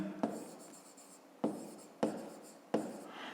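Pen strokes scratching across paper in a school maths exercise book, four quick bursts each fading out, close and fairly quiet with no talking.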